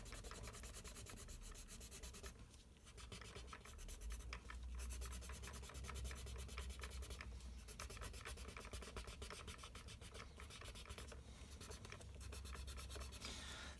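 A peach colored pencil rubs steadily across paper, pushed in with firm strokes on a pirate drawing, giving a continuous close scratchy shading sound with short pauses between passes and no talk.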